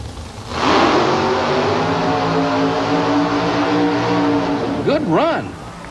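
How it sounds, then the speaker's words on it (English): A little pickup truck mud racer roars close and loud as its engine revs and accelerates down a mud racing track at a 1990 Oklahoma City event, sustained for several seconds before a sharp rising and falling whine near the end. "Little pickup truck. Ready to go."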